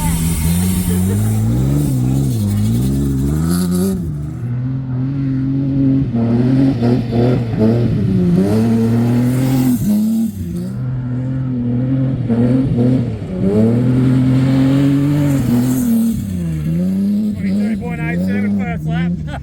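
A Mitsubishi Magna street stock race car engine drones steadily through a lap, its revving pitch rising and falling under near-constant talk from people in the car.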